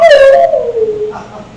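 A man imitates a wolf howl with his voice, a single sustained falling howl up close, loud and alone with no other sound.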